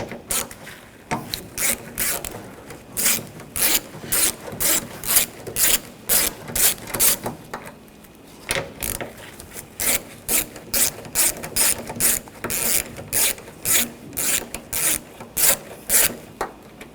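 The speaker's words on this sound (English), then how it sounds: "Using a 10mm socket, we're going to take these nuts off." A ratchet wrench fitted with a 10mm socket loosens the nuts holding a side mirror on a 2014-2020 Nissan Rogue door, with rapid close clicking bursts in steady rhythmic strokes and short pauses between them.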